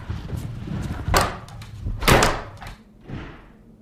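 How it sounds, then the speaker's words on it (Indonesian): A kitchen door slams shut several times with heavy thuds and a short rattle, each hit loud and close in a quiet indoor room with no voices. "neneknya keluar dari kamar dan kemudian membanting pintu dapur yang menyebabkan mereka berdua terbangun"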